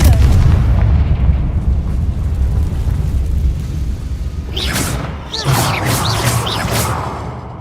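A Confringo fire spell blasts in the Hogwarts Legacy video game, a loud deep rumbling boom that decays slowly, followed by several sharp crackling impact bursts close together, with no voices.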